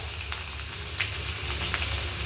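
Fresh ginger sizzling in hot oil during a tempering with asafoetida, curry leaves and turmeric for katachi amti, a steady close frying hiss with small crackling pops and no voices.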